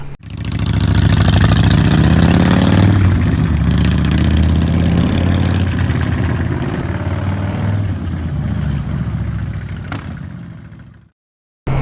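2024 Kawasaki Z900 motorcycle engine running loud and close, a steady rumbling drone with slight rises and falls in revs, held for about ten seconds before cutting off abruptly.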